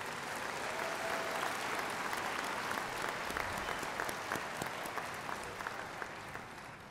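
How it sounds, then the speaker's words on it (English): An audience at a 2013 high school graduation gives a steady, dense round of applause, sustained clapping from a large crowd that holds evenly and tapers slightly at the end. "Give these people a round of applause"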